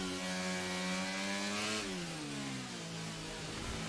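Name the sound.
Renault F1 car engine in video game F1 23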